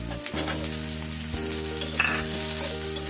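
Sliced onion and capsicum frying in white cooking oil, a steady close sizzle with scraping stirs throughout.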